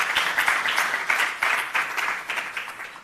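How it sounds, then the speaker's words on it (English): An audience at a university innovation showcase event in South Africa gives a round of applause, a steady, moderately loud wash of many hands clapping. "Could we please give her another wonderful round of applause?"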